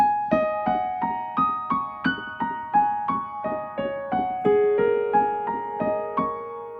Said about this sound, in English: you're just going to play around on some black keys with that pedal down